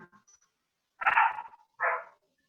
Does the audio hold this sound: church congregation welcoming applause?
no